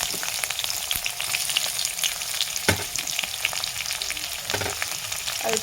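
Onions sizzle in hot oil with cumin seeds, a dense continuous frying crackle heard up close, broken by a few sharp clinks and scrapes of a spoon stirring the pan.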